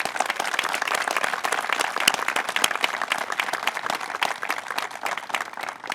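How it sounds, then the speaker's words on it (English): Audience at a ribbon-cutting ceremony and open house applauds steadily, a sustained round of close, crisp hand clapping with no talk. "So I would like to have all of us give a big round of applause to Brian and all the construction workers."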